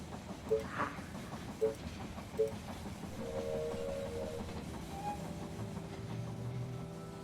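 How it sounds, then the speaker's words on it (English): A train pulls into a station in the zombie strategy game They Are Billions, with a few brief clunks and tones at the start, then a rising rumble and faint squealing brakes under low in-game ambience. "The train has arrived at the station."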